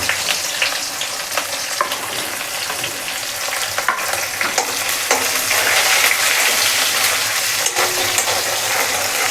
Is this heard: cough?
no